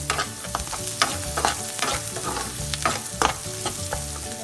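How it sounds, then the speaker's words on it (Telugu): Onions fry in a pan toward browning with a dense, close sizzle and occasional stirring scrapes, steady and loud throughout, no one speaking. "ఇది ఆనియన్స్ కొంచెం బాగా బ్రౌన్ కలర్ వచ్చేదాకా కొంచెం బాగా వేయించండి."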